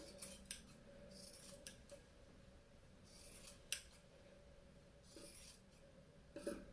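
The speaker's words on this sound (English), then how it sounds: "Then we're going to cut along the collar here, just like that, like you're making a cute little scoop neck or something." Scissors cutting along the collar of a cotton t-shirt for a no-sew tote bag, a series of quiet, close snips spaced irregularly over a soft background hum.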